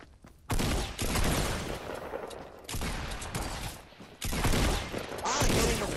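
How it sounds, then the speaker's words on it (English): Sniper rifle fire in Fortnite, heard as loud, dense bursts of gunfire blocks separated by brief gaps, near and harsh across roughly six seconds with no talk over it. "I'm hitting him with a sniper rifle bullet."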